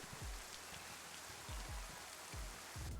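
Steady rain in the DayZ survival game, a dense hiss pouring down across the whole stretch, with a few low thumps breaking through beneath the downpour.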